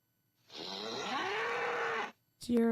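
A cow gives one long, loud, drawn-out moo that slides upward in pitch, followed by a short burst of another sound right after it ends.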